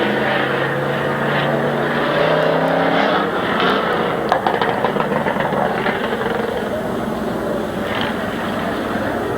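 Race cars circling Midvale Speedway on a cold day, a continuous engine roar with droning pitch lines as cars pass, heard from the stands at moderate distance.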